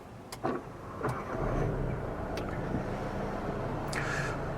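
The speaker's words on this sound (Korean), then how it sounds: "시동을 걸어보면" A 2020 Volkswagen Tiguan Prestige engine cranks and catches, then settles into a steady low idle rumble, heard from inside the vehicle.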